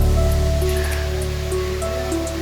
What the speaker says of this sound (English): It's just like a dream, this waterfall.